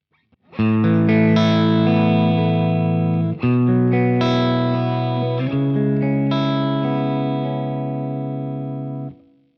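Electric guitar played through the clean amp model of a Boss Katana, sustained chords ringing out with shimmering, slightly chorused tone, three strums letting each ring before fading.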